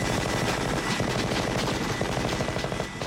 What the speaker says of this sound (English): Jesse had that huge Gatling gun